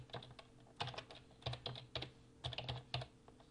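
Fingers tapping out an email address on a computer keyboard, quick clusters of close, quiet key clicks with short pauses between bursts.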